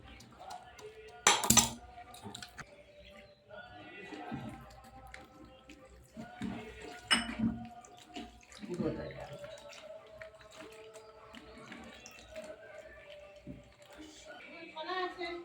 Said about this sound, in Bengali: আর এবারে আমরা এই দুধ ঢেলে দেবো সিন্নিতে